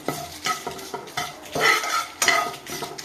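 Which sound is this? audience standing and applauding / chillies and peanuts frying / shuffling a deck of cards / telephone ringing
chillies and peanuts frying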